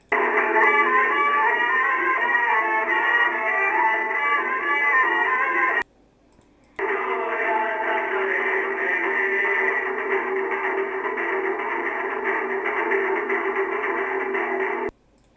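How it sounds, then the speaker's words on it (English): Small AM radio broadcast from Battlefield 4, set at Egypt's Suez: a steady, dense band of tinny midrange sound with no speech. It plays for about six seconds, cuts out briefly, then resumes at the same level to the end. "Egypt Suez small AM radio"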